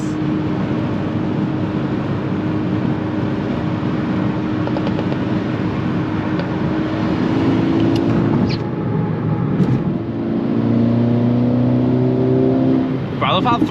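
A Volkswagen Mk6 GTI engine revs hard under acceleration with a deep, throaty note climbing toward the top of the rev range, heard from inside the car over steady road noise, with occasional voices.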